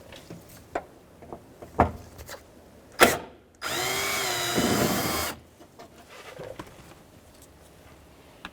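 Power driver backing a Phillips screw out of the rear exterior door latch assembly on a 2007-2013 Acura MDX, one steady whirring burst of about two seconds, close and loud, between scattered clicks and handling knocks.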